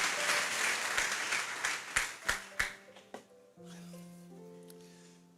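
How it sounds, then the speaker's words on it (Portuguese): Applause from an audience at a motivational talk breaks out loudly, then thins into a few scattered claps before fading into quiet room tone. "Se é para aplaudir, aplaude com gosto."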